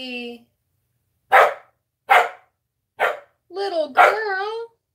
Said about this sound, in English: Oh, a puppy.